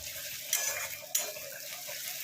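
Onions frying in a pan for an egg curry gravy, a steady moderate sizzle with two sharp clinks of a utensil against the pan partway through, no voices.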